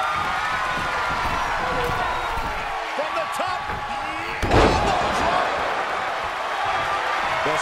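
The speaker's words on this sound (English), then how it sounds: "The sound of this crowd is deafening, and he's asking for more" A wrestling arena crowd roars steadily through a tag-team main event between two pairs of wrestlers, loud and continuous, with a sharp slam-like thud midway and commentators talking over it.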